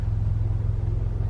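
A manual-transmission car idles and is given gas while reversing with the clutch coming out, a steady low engine rumble held close and even throughout.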